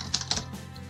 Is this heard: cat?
no